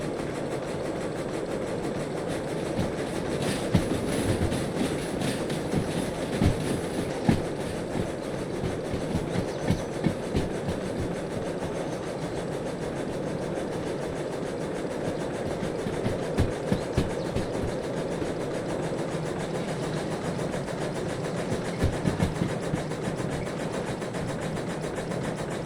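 A train in the video game Derail Valley rolls steadily along rails, with a continuous low rumble and faint rhythmic clicking from the wheels, moderately quiet and with no talk.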